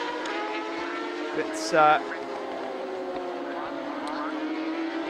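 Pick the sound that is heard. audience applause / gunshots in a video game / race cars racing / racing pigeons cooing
race cars racing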